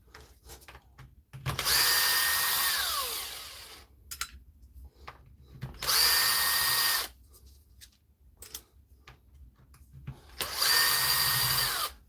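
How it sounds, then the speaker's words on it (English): An old power drill whirs in three loud bursts of a second or so each, separated by quieter pauses with small handling noises on a workbench. "he's asking about my old drill there, Sam."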